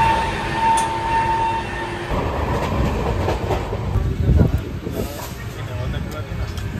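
A train at Nabadwip Dham railway station rumbles steadily with rolling, clattering wheel noise, loud and close, while a voice talks over part of it.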